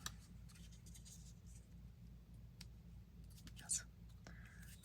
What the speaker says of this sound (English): you'll have to wait while I do a little fussy cutting.